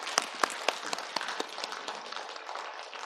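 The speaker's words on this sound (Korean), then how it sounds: "박수 한번 칠까요?" Scattered claps from a church congregation at an Easter worship service start with a few sharp, distinct hits and then blend into a soft, sustained round of applause.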